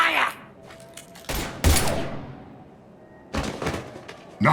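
Bursts of automatic gunfire in the video game Mass Effect 3 come in three separate loud volleys with quiet gaps between them, and faint game sounds and voices sit underneath.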